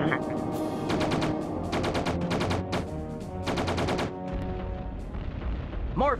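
Rapid bursts of plasma gun fire in the G Police 2 video game, repeated volleys of sharp shots over a game soundtrack, loud and close, with a brief rising whine near the end.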